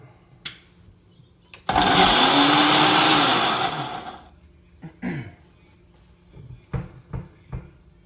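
Electric blender whirring through banana pancake batter: a loud, steady motor roar rises abruptly, holds for about two seconds, then winds down, followed by a few scattered clunks and knocks of kitchen handling.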